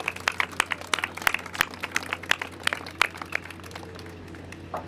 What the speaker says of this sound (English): Let's give a round of applause to all these good people for the great work they do.